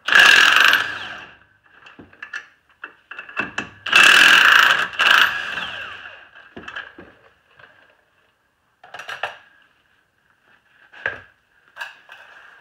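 An impact wrench removing front strut bolts on a 2006–2011 Chevy Impala rattles in loud, short bursts, stopping and restarting several times with quiet gaps between, close by.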